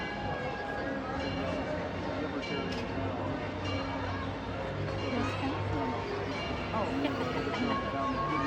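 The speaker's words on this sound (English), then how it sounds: "I hear the Disneyland Railroad coming back through." The Disneyland Railroad train rolls past in the theme park, a continuous rumble with clinks and squeals of rail cars. Crowd chatter and voices sit underneath throughout.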